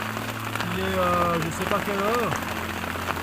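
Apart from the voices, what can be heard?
hail falling on tent outside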